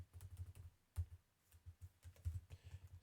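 Fingers type on a computer keyboard in a quiet room, producing soft, uneven clusters of close key clicks with short pauses between bursts.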